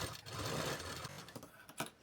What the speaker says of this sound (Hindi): अपने ब्लाउज को इसके ऊपर पे ऐसे रखना है, और सीधी सिलाई लगानी है।